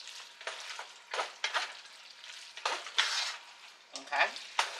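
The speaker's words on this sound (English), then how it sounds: "Mix all the cheese together." Spoon stirring shredded cheese through a pan of barbecue chicken, giving repeated soft scraping, squelching strokes in uneven bursts, close and moderately loud with no talking.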